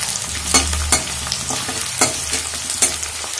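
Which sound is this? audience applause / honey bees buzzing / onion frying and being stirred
onion frying and being stirred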